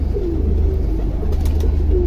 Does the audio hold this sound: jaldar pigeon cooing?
yes